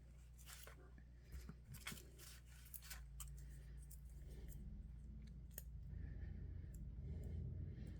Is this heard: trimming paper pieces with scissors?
yes